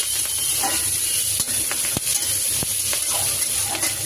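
Panch phoron whole spices crackle and sizzle in hot oil in a wok for a chicinga (snake gourd) chorchori, a steady frying hiss broken by a few sharp pops and utensil clicks, close and fairly loud with no talking.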